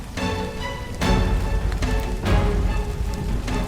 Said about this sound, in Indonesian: pakai hujan lagi